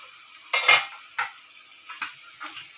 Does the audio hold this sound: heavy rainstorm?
no